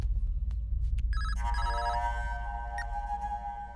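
A telephone rings with a steady electronic trill, fairly close and clear, repeating without any voices over it.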